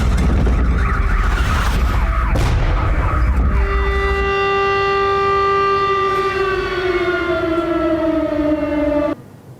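An air raid siren wails loud and close, its steady harmonic tone holding then slowly sliding downward as it winds down before cutting off, with a noisy rumble beneath at the start.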